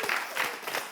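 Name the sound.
studio audience applauding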